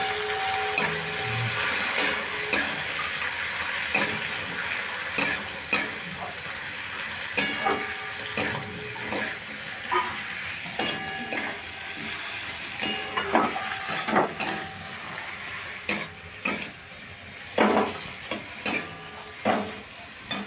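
Spice paste hits vegetables frying for Bengali sukto, giving a steady close sizzle with scattered scraping and clicking stirs throughout and no talk.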